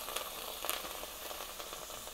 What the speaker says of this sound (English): So all the dry ingredients get a little bit fried